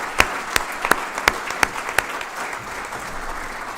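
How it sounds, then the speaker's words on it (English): Slow, deliberate hand claps at a student awards ceremony, about six sharp claps in a steady rhythm over a quiet room murmur. "can we give him a clap?"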